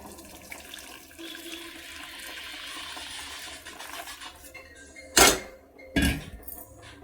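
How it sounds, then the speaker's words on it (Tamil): Water pours and trickles steadily for several seconds as it is drained from cooked lentils for sambar, followed by two sharp metallic clanks of a pot or vessel. "லைட்டாக இந்த தண்ணி இப்படி வடிச்சிக்கலாம்"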